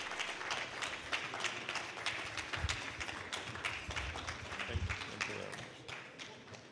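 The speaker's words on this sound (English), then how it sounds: "Keep clapping as he comes forward. Keep clapping till he gets here." An audience at a book launch event claps in a steady, moderately distant patter of hands, with some talk mixed in over the applause.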